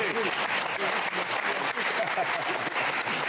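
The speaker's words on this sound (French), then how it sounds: "on va lui faire une standing ovation" Steady, dense applause from a studio audience giving a standing ovation to French comedian and impressionist Laurent Gerra, continuous and loud throughout with faint voices mixed in.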